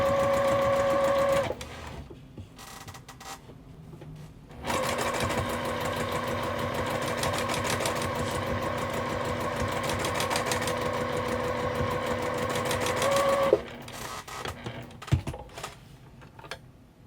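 A sewing machine stitches a quilt block in two long steady runs, a short burst at the start and a longer stretch after a pause, close and alone, with faint handling noises between.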